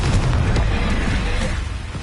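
Confringo blasting spell explosion in Hogwarts Legacy, heard amid combat: a dense, loud, close booming rumble with faint bursts and pops that slowly eases toward the end, no talking.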